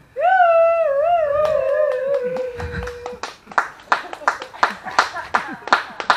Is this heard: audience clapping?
yes